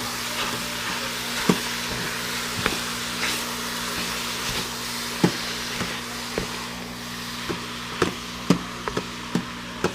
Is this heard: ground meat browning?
yes